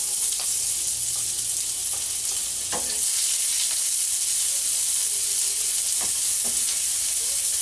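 Garlic, fresh Guyana thyme and onions sizzle loudly in hot oil, a steady close frying hiss with occasional stirring clicks.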